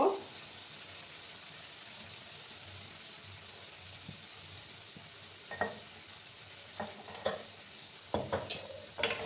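Rohu fish curry with ridge gourd and potato sautéed and stirred in a pan, a faint low sizzle with scattered spoon scrapes and clinks growing busier toward the end.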